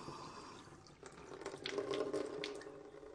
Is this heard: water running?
yes